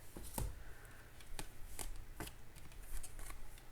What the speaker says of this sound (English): let me grab this bottom card